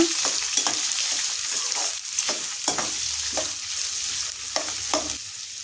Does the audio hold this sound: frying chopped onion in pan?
yes